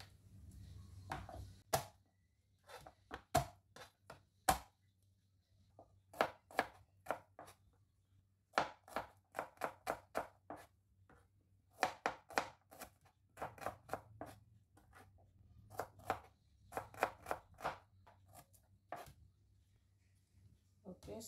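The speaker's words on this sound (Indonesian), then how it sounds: "Sekarang saya mau iriskan bawang merah, bawang putih. Bawang putihnya saya potong aja." A knife slices shallots and garlic on a cutting board for an Indonesian home-cooked meal, a long run of crisp, close chopping taps in uneven bursts, mostly alone over a faint steady hum.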